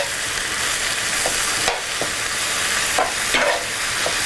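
Meat frying for an Italian-style empanada filling, stirred in a pan: a steady close sizzle broken by several sharp scraping strokes of the spoon, with no voices.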